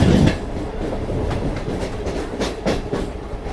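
A Duronto Express passes close beside a stopped local train on the Howrah to Digha line, giving a loud rolling rumble with rhythmic wheel clatter from passing wagons, with no talking.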